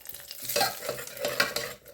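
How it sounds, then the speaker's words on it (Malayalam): Mustard seeds and curry leaves fry in hot oil in a Kerala-style wok, giving a steady close sizzle with bursts of crackling and spoon-stirring scrapes, no voices. "ഒരു ചീനച്ചട്ടിയിലേക്ക് കുറച്ച് കടുകും കരിവേപ്പിലയും വറുത്തെടുക്കുക"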